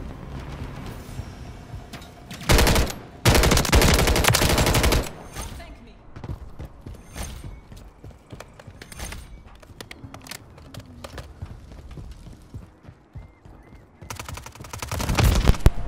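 Rifle gunfire in a video game team deathmatch: loud sustained automatic bursts around two to five seconds and again near the end, with scattered lighter shots and game noise between them.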